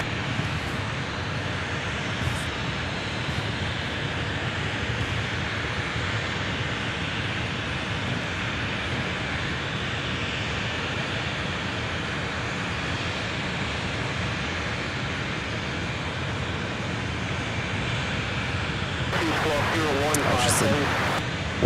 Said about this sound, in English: let's get this MD-11 that's up next out of Oakland, California, UPS